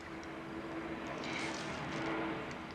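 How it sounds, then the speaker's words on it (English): An aeroplane drones overhead, a steady broad rumble with a faint tonal hum, moderately distant and slowly swelling as it passes, with no talk over it. "that's an aeroplane you can hear going over again"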